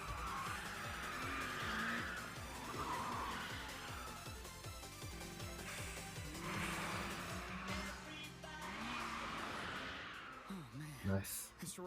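Race cars skidding through an Initial D anime race, tires squealing and engines wailing continuously over a dense music track, with voices speaking across the mix near the end.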